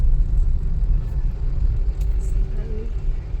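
A car drives along a road toward Palghar, its low steady rumble of engine and road noise running throughout at moderate level with no break.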